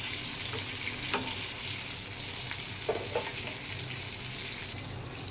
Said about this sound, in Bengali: এখানে হলুদ মরিচ মেখে মাছটা ভাজা দিয়েছি